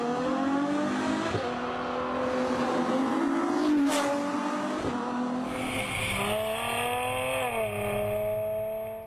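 A Ferrari F12 V12 revs hard through rising gears at full noise, loud and snarling, with a brief shift break partway and a final surge that fades as the clip ends; no voices.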